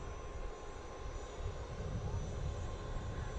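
Distant Boeing P-8 aircraft engine drone at Harrisburg International Airport, a steady low rumble that swells slightly over a few seconds, with faint radio-style voices in the background.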